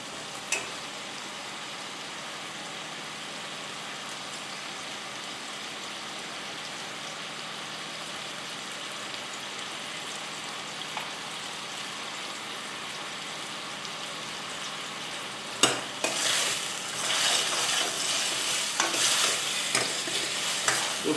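Vegetables fry in a pan on a gas burner at full flame, giving a long, steady sizzle that grows louder near the end as stirring and clattering strokes come in, with no talk.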